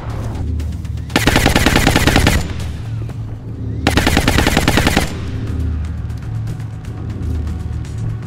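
Suppressing machine gun fire in the XCOM tactical video game, two long sustained bursts of rapid automatic shots, loud and close, separated by a quieter stretch of game ambience.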